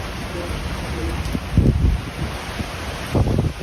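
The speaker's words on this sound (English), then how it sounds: "Holy cow, here comes the wind." Strong gusts of wind buffet the scene during a rainstorm, a broad rushing roar with two louder surges rising over the steady blowing.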